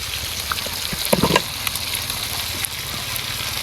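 Eggplant pieces dropped into a frying spice mix in a pan, a brief burst of louder sizzling and crackling over a constant background fry, then settling back to a steady hiss.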